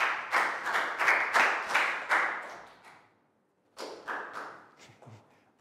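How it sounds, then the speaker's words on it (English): Students in a Year 3 social studies class give a short round of rhythmic clapping, a brief pause, then a second smaller burst of claps, close and moderately loud. "Big round of applause for Net."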